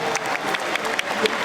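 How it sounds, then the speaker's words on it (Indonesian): A crowd applauds at an Indonesian political party declaration event, dense rapid clapping filling the room steadily at close range, with a few sharper individual claps standing out. "Beri tepuk tangan untuk seluruh jajaran Amanat Indonesia."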